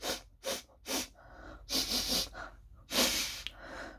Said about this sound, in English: Everybody, let's sniff together.